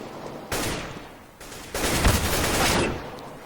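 Counter-Strike: Global Offensive gunfire, dense bursts of automatic shots in two loud volleys with a short gap between them, harsh and close.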